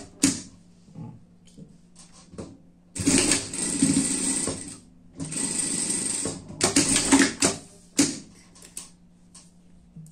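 A sewing machine runs in several bursts of fast, steady mechanical stitching, folding and sewing a finishing seam on fabric, with short pauses and light clicks between runs and no talk.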